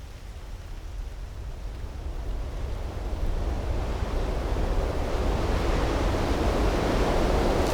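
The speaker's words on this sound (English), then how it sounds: "of the wind against the fuselage as the plane drops from the sky" Rushing wind tears past the fuselage of a falling airliner that has lost an engine, a broad, steady roar that swells louder partway through and keeps building without any voices.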